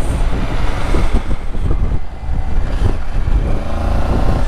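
Triumph Tiger 900 motorcycle at speed, a steady loud engine roar blended with heavy wind buffeting on the microphone, with no talking.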